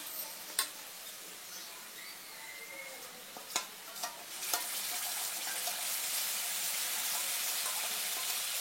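Onions sautéing in a pan with a spice paste of red chili powder, garam masala, turmeric and coriander powder: a few sharp spoon taps, then a hissing sizzle that swells and holds loud and steady.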